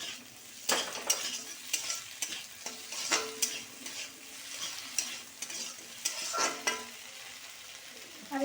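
A spice paste of ginger, cumin and chili fries in a pan while a utensil stirs it, with a soft sizzle under repeated scraping strokes, close and fairly quiet.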